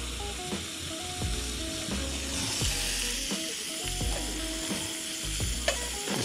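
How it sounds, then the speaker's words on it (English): Sirloin steak sizzles in butter on a camping stove outdoors, a loud steady frying hiss joined by repeated mechanical ratcheting clicks and low thumps, with no voices. "Just cooking some sirloin and butter."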